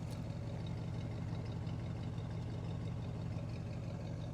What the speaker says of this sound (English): let me just listen to the rumble for a second